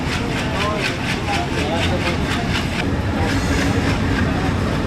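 At night the Ovijatri commuter train runs on from Bhanga Junction with a dense, continuous rumble and rhythmic wheel clatter near at hand, while voices murmur faintly underneath.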